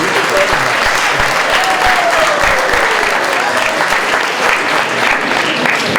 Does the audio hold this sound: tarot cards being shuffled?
no